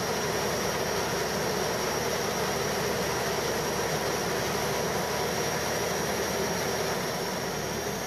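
A diesel engine running steadily on a fuel mix of half water and half diesel, a loud continuous drone with a broad even roar and no breaks, close by and alone without talk.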